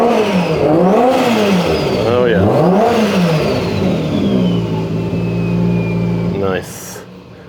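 A Toyota Soarer drift car revs hard up close, its engine pitch sweeping up and down in repeated swells before settling into a steady idle; a voice speaks briefly over it.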